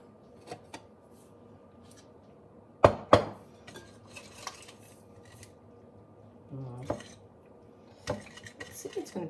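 Sugar being mixed into sourdough starter in a bowl for bagels, scattered clinks and scrapes of a utensil against the bowl with a few louder knocks between quiet pauses.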